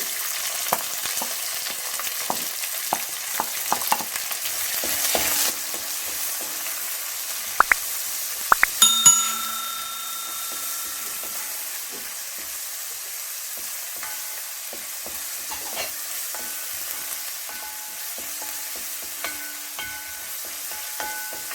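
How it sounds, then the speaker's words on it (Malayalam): Two medium onions, finely chopped, fry in a pan for beef roast with a soft, steady sizzle, broken by scattered spoon clicks and scrapes and a few sharper knocks midway as they are stirred. "ഇനി ഇതിലേക്ക് 2 മീഡിയം സൈസ് സവോള അരിഞ്ഞതാണ് ചെറുതായി അരിഞ്ഞ് ചേർത്ത് കൊടുക്കുന്നു"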